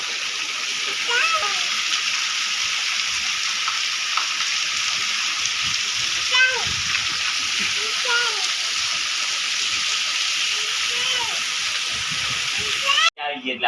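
Heavy monsoon rain in Bhesan falls in a constant, loud splashing roar, with occasional voices and small knocks heard under it before it cuts off abruptly at the end.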